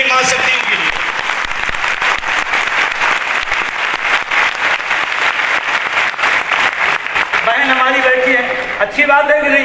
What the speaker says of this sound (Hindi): एक बार सबसे बड़ी ताली अपनी मां शक्तियों के लिए।